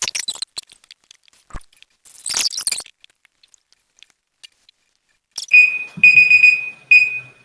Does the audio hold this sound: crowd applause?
no